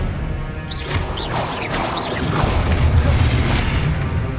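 Expelliarmus spell effect from the Hogwarts Legacy video game, a dense burst of magical whooshes and booming impacts with shimmering sweeps, loud and continuous throughout with no talk.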